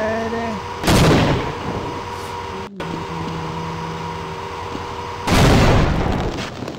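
Two loud grenade blasts in a desert-and-mines VR video game, each a broad booming burst that fades out, separated by a few seconds of steady background rumble and faint tones.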